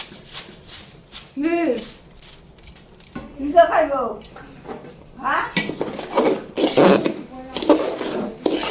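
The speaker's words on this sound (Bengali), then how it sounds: "এখন ভাজা চিরা কিন্তু গুড়ের মধ্যে দিয়ে দেওয়া হচ্ছে" Fried flattened rice being stirred into sticky melted jaggery in a pan, with intermittent metallic scrapes and clinks of a spoon against the pan while a person talks over it.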